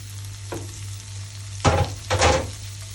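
Tomatoes dropped into a hot frying pan for Kerala moru curry, giving a faint sizzle at first and then two louder bursts of frying hiss over a steady low stove hum.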